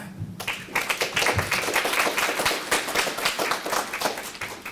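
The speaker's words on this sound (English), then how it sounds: "please meet her with applause" A burst of audience clapping at a tech conference talk starts abruptly and continues steadily, moderately loud, with no talking over it.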